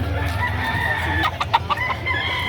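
A young gamecock stag about seven months old clucks and gives a short crow at a rooster market in Batangas, close and clear over a low background rumble.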